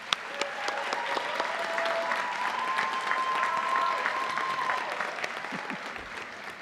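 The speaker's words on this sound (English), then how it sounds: "Graduates, let's give those folks a round of applause." An audience at the Saybrook University Class of 2024 commencement ceremony applauds graduates' friends and family, a sustained wash of crowd clapping lasting several seconds before it thins out near the end.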